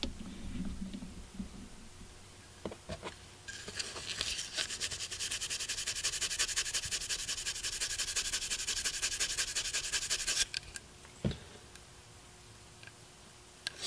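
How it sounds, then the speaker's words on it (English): A scuff pad rubs over a plastic GoPro housing in a fast, steady scratchy scrubbing that runs for several seconds in the middle, close and fairly quiet, with soft handling ticks before and after. "Scuff up the plastic. Scuffing it up like this is a necessary step if you want to have good paint bonding."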